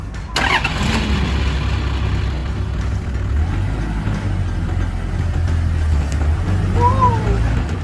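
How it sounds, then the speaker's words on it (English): A Toyota Land Cruiser fire truck engine cranks briefly and catches, then settles into a steady, loud, low rumble as the truck drives off, with faint talk in the background. "Alright, driving the Land Cruiser Firetruck."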